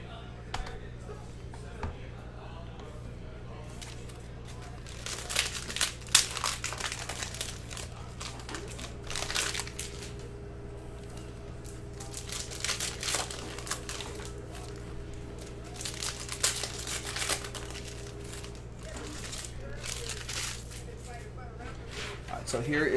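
A Panini Mosaic basketball card cello pack is torn open and handled, giving repeated crinkling and rustling of wrapper plastic close by, spread irregularly across the clip under a person's talking.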